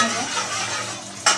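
Chopped onion and cumin seeds hitting hot oil in a home kitchen pan, a loud steady sizzle that hisses close up and then ends with a sudden clatter.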